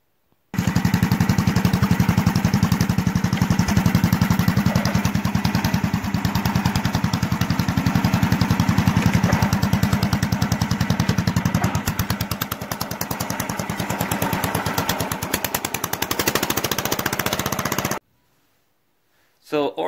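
Homemade tractor with a Model A transmission drive train runs steadily in a loud, fast, close chugging put-put, then cuts off abruptly near the end.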